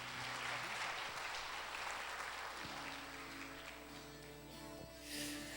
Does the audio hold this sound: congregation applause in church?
yes